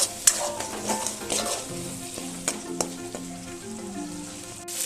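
Bengali spice paste for foli fish frying with a little added water in a pan, a steady close sizzle broken by scraping stirs and occasional utensil clinks, no talking.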